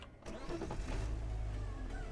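A car engine in the video game Car Dealer Simulator as the car drives toward a car-wash station: a brief start-up click, then a steady, low engine hum with a faint rising whine, moderately quiet and without voices.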